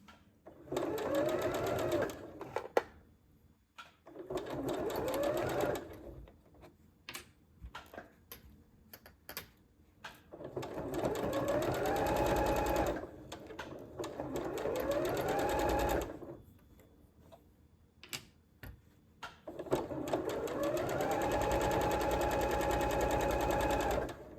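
Sewing machine stitching a quilt block, running in several steady whirring bursts separated by pauses with small clicks and handling noises, close and moderately loud.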